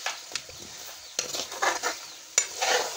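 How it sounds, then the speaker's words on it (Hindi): Potatoes are stirred and fried in masala for shahi badami mutton korma, with scattered spoon scrapes and clinks against the pot over a faint sizzle in short bursts, close and without speech. "इसको भी हम 1 से 2 मिनट तक के लिए अच्छे से भूनेंगे।"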